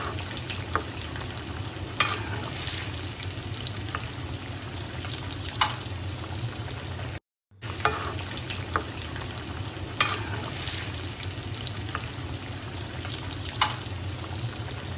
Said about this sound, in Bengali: তো মাছ দিয়ে ভালো করে একটু নেড়ে তারপরে ঢেকে দিচ্ছি 2 মিনিটের জন্য।